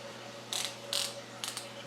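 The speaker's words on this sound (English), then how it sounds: "Okay, now let's torque them." A torque wrench clicks while tightening bolts on a GM 4L80-E transmission during a rebuild, giving a few quiet, crisp ratcheting clicks in small groups against a faint steady hum.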